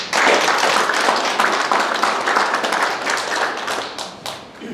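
An audience at a founding assembly and forum in Incheon claps steadily for several seconds, with dense applause that fades slightly toward the end.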